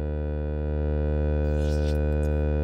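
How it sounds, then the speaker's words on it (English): Endorphin.es Airstreamer 4 envelope generator looping as an audio-rate oscillator, its bipolar output fed through the Ghost module: a steady, loud, buzzy sustained tone rich in harmonics, holding alone with a faint hissy flutter near the end. "To show you how the Airstreamer 4 can work as an oscillator"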